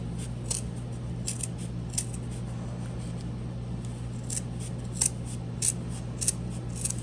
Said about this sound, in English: feel free to trim a little bit with the extra fabric in the center here